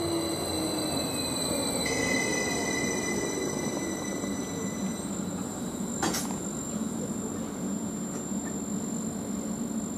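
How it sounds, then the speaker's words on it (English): A Greater Anglia train, the 11:55 to Norwich, rolls into Manningtree station with a steady low rumble and faint high wheel squeal, plus a brief sharp burst partway through, with no talking. "Now the 11:55 Greater Anglia train to Norwich is just arriving."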